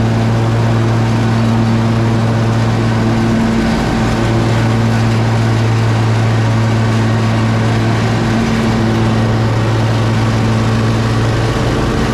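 A riding mower with a Cyclone Rake XL attached runs loud and close, a steady droning engine hum with a brief dip in pitch partway through, with no talking.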